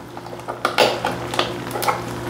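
Utensil scraping and clinking against a pan as beef broth is stirred into a beef and broccoli stir-fry, several short close strokes over a low steady kitchen hum.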